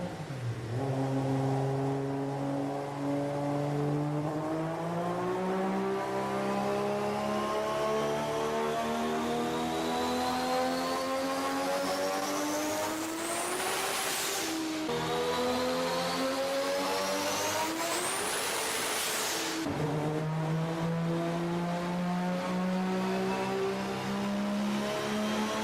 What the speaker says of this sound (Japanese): RB26DETT は、高回転に行くほど高まる激しい音質を放つんだ